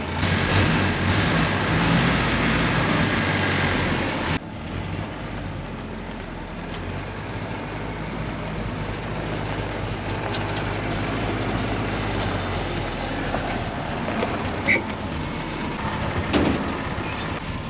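Transmission built from the cheapest parts after a gear swap, running in low range: steady close mechanical whirring that drops in level after a few seconds, then carries on with faint clicks.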